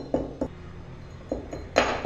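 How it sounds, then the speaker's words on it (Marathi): Herbs pounded into powder with a mortar and pestle, giving four or five sharp, close strikes spaced irregularly, with the last blow hardest and no talk. "हे दोन्ही पदार्थ छान कुटून याची पावडर तयार करून घ्यायची आहे"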